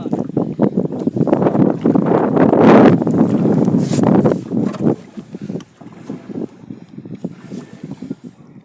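Wind buffets the microphone while a boat moves over the Dhansiri river, with steady rumbling noise that eases off halfway through.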